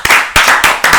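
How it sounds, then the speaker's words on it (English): A small group claps together in four loud, close, evenly spaced bursts, a quick rhythmic round of applause at a New Year gathering. "Let's clap it up for Mark."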